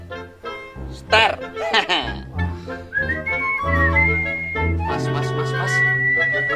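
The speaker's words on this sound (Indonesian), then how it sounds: "Jangan siul-siul malam-malam." A person whistling at night, a few short melodic whistled phrases mixed in among people talking.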